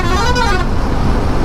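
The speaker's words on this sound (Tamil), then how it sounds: "இவ்வளோ ஹார்ன் அடிக்கிறீங்க" Vehicle horns honking in busy highway traffic on a long motorcycle ride from Chennai toward Kolkata, a loud close toot over a steady roar of road and engine noise.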